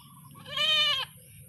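A single mother goat on a farm pasture lets out one loud, wavering bleat lasting about half a second, close by, with a low background hum on either side.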